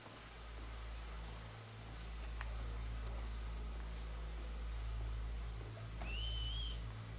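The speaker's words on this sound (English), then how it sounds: "Make a noise. Whistle or something." A short rising whistle sounds in Red Dead Redemption 2 near the end, clear above a steady low ambient hum of water and outdoor background.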